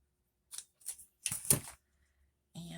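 Scissors snip through a small piece of purple sari silk, giving several short crisp cuts in quick succession, close and quiet, followed by a brief soft rustle at the end.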